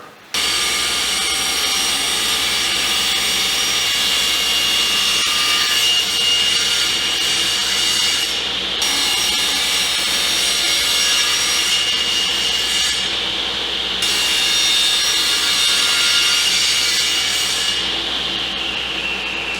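A saw rips wood into 1.25 inch strips for window muntins, a loud, continuous high whine with brief dips as each cut ends and the next begins.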